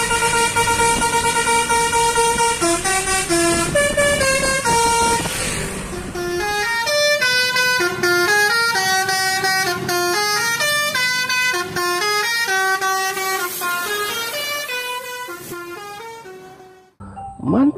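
An Efisiensi bus passing in Indonesia with its musical multi-tone horn playing a loud, close melody of rapid stepped notes that runs almost continuously for about seventeen seconds.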